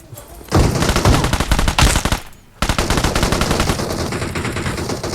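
Rapid automatic gunfire in PUBG Mobile, loud and dense, with bursts running almost continuously and one brief pause near the middle before the firing resumes.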